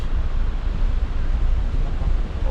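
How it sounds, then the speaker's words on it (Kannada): High-flow water plunges down near a hydroelectric plant in the Sholayar forest reserve, Tamil Nadu, a loud, continuous low roar and rush without a break. "ನೀರು ಯಾವ ರೀತಿ ಒಂದು ಧುಮುಕ್ತದೆ ನೋಡಿ"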